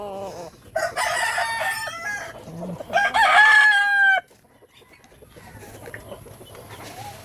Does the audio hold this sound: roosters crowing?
yes